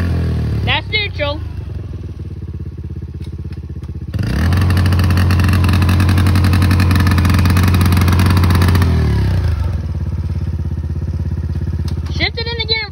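A four-wheeler ATV engine idling in neutral, a steady loud rumbling drone that holds for several seconds with voices talking before and after.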